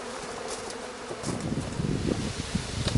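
Honeybees buzz steadily around a frame being handled at an open hive, a dense close swarm hum that swells louder and busier in the second half, with no talking.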